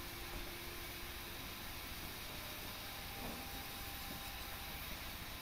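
A GER P43 steam locomotive running in a railway simulator game, a steady low rumble with a constant hiss throughout, no talking.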